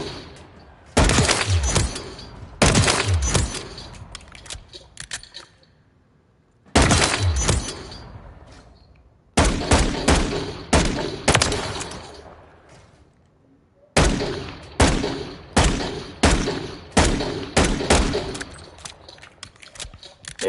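Gunfire on a firing range in Call of Duty: Modern Warfare III comes in loud, close rapid bursts, with several volleys of shots separated by brief pauses and echoing tails.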